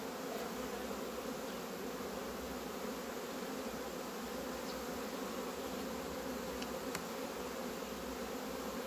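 Honeybees at a small colony give off a faint, even, continuous buzz, a soft, steady drone with no voices over it.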